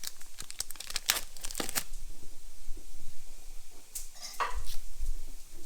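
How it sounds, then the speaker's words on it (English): A small knife cuts around the rim of a plastic tub of brown crab meat, giving sharp crinkling, tearing and scraping bursts in uneven clusters, close by and fairly loud, with no talking. "Let's get a little knife and just cut around the edge just to open that up."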